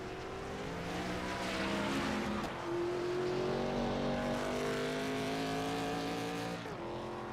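ARCA race cars at Charlotte Motor Speedway in the iRacing sim, engines droning loudly and continuously with rising and falling pitch as cars circle the track, one shift in tone near the middle.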